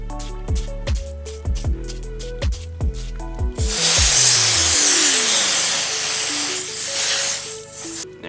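A strong, steady water spray hisses as a hose rinses dried paint off a paintbrush, starting after a few seconds of tonal, music-like sound and running loud and continuous to the end.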